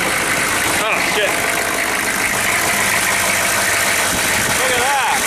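A 6.5-litre turbo diesel engine idles steadily and smoothly at close range, a loud continuous rumble, with someone talking over it.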